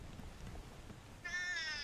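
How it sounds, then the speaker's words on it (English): A pet cat lets out a single drawn-out meow near the end, close and fairly clear over a low background rumble, with no talk around it. "Sorry, cat wants to get involved."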